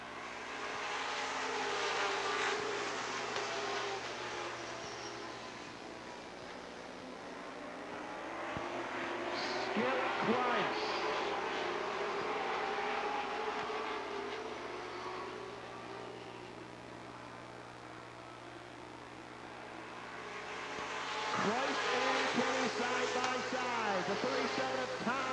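A field of 17 limited late model race cars at Madison International Speedway in Oregon, Wisconsin, rolling off to start a 20-lap feature, a steady roar of engines that swells, fades and rises again as the pack passes, heard from a distance.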